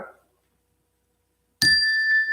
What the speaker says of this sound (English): I ring the bell because